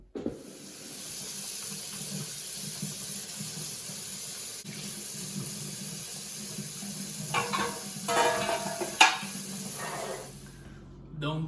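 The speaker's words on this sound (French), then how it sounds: "je vais aller faire la vaisselle" Dishes being washed at a kitchen sink under running tap water, a steady hiss of flowing water throughout with a few louder clinks and splashes toward the end, close by.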